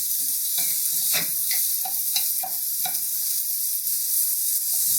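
Chopped onions sizzle steadily in oil in a hot pan while being shaken and stirred, with a string of quick scraping, clattering hits over the even frying hiss.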